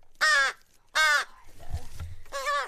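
A crow caws loudly three times at close range, harsh raspy calls separated by short gaps, with faint low rustling and handling noise between them.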